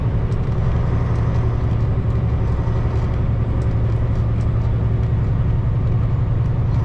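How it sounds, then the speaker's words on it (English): An all-black Peterbilt semi truck pulling a black hopper trailer rolls past on an Illinois road, a loud, steady low engine rumble and tire roar that stays strong throughout, with no voices. "Can't beat an all black Peterbilt."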